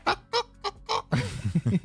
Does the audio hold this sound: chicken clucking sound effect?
yes